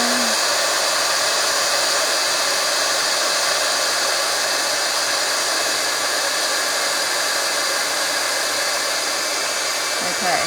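A heat tool roars loud and constant as it passes over embossing powder on a diorama, with a brief faint voice at the very start and end.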